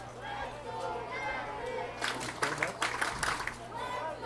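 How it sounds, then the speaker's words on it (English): Crowd of over 900 fans at a minor-league baseball game cheering and clapping at the ballpark, with bursts of applause rising midway under a play-by-play announcer talking throughout. "The crowd urging on the Jackfish here."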